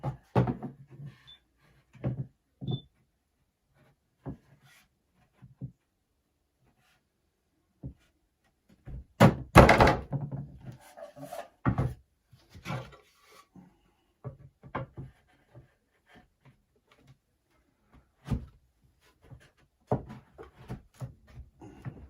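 Wooden medium super box of a beehive being assembled, dovetail corner joints fitted together with scattered knocks, taps and scrapes of wood on wood, a busier cluster of thumps midway, close and fairly quiet with pauses between.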